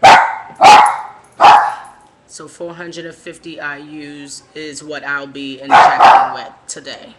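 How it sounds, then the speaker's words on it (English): A pet dog barks loudly indoors, three sharp close barks at the start and another burst near the end, aimed at someone in the hallway, with a person talking in between. "He's actually barking at somebody in the hallway."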